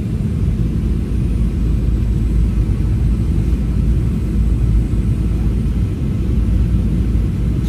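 Steady, loud engine rumble and broadband cabin roar of a Garuda Airlines airplane landing, heard from inside the cabin, continuous and unchanging throughout.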